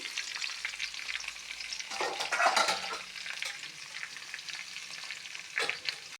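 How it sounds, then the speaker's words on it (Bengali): Drumsticks and potatoes fry in a pan with a steady close sizzle and bursts of stirring, continuous and unbroken by speech. "এখন দিয়ে দিচ্ছি এই যে সাজনা, আর সঙ্গে দিয়ে দিচ্ছি আলুগুলি"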